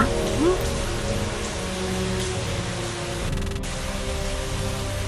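Heavy rain pours down in a thunderstorm, a dense, steady hiss of drops beating on surfaces that holds at an even, fairly loud level throughout with no voices.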